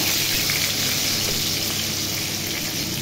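Salted mango pieces coated with turmeric and dried chili powder frying in hot oil for a pickle, a dense, even sizzle that stays loud and close throughout.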